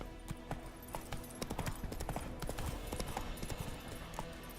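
Horse hooves clip-clopping at a steady riding pace in the video game The Witcher 3, a close, rhythmic series of hard clops over a low background hum.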